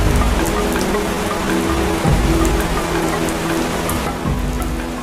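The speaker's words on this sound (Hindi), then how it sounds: "ये बरसात की शुरुआत है।" Steady, heavy rain marking the start of the rainy season pours down on an African savanna with a dense, even hiss, broken by a low rumble partway through.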